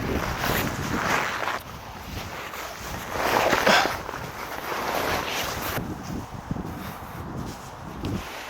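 Strong outdoor wind gusting and buffeting the microphone while a Snow Peak Grandberg M tent is pitched, a steady broadband roar that swells and eases in waves throughout, with no talking.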